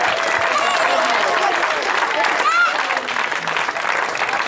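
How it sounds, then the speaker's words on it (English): A crowd gives sustained, dense applause for a 12-year-old Little League all-star team at a rally, steady and loud throughout with some voices mixed in. "So major round of applause."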